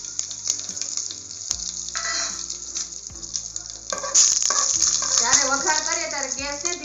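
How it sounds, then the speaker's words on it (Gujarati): Dried chillies, a cinnamon piece, a bay leaf, curry leaves and cloves are tempered in hot oil for masala khichdi. The bright, continuous sizzle grows louder partway through, under background music. "રાઈ ને જીરું ફૂટે ત્યાં સુધીમાં આપણે અમે 2 સૂકા મરચા લીધા છે, 1 તજનો ટુકડો લીધો છે"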